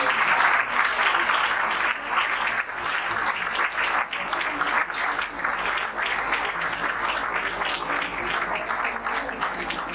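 Sustained applause from an audience at an Engineer's Day celebration at a government polytechnic in Patna, dense and even clapping that holds steady for the whole stretch with a faint crowd murmur beneath.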